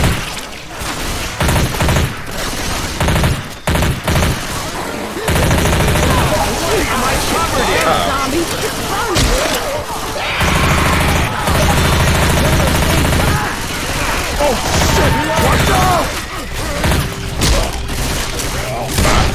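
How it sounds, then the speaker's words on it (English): Rapid gunfire bursts from a gun in the Left 4 Dead 2 video game, loud and continuous, with booming shots and mechanical clatter layered under game sounds and occasional voices. "this gun feels good to shoot, but it appears to do actually cheeks damage"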